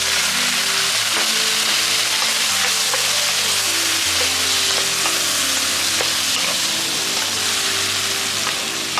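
Salmon and mushrooms frying in butter in a pan as ponzu goes in, a loud, dense, unbroken sizzle close up with no voices.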